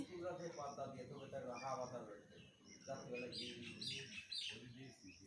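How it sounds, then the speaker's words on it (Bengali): An Asian koel calls in the background, with a few chirpy notes coming through while a person speaks over them outdoors in the morning. "ওদিকে কোকিল ডাকছে।"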